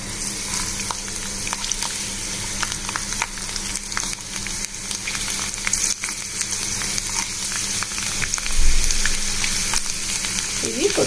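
Urad dal and tempering spices with garlic frying in hot oil for a raw mango dal, a steady close crackling sizzle throughout with small stirring scrapes and a brief louder burst near the end.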